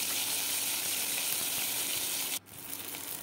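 Mustard seeds, curry leaves, garlic and dried chilli sizzle in hot oil with a loud, dense hiss that breaks off abruptly and then resumes more quietly, with no one talking.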